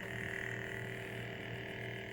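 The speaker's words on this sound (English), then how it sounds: "First we'll start with igniting and idle hum." A Star Wars Force FX Luke Skywalker lightsaber gives off a steady electronic hum, close and constant with no break, with no voices over it.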